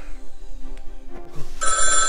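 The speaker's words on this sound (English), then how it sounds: "We have a phone call." After a dim, quiet stretch inside a cardboard box fort, a telephone bell starts ringing loudly partway through and keeps going to the end, with no talking.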